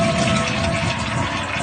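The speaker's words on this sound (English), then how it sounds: "Let's try flushing it again and see if it goes down on its own." A faulty toilet that won't stop flushing is flushed again, giving a steady, close rush of draining and refilling water that continues unbroken throughout.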